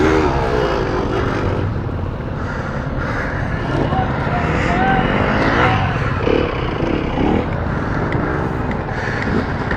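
A BMW 1200 motorcycle climbing a steep off-road ascent at a trail skills day, engine droning and revving under load nearby, with people talking over it.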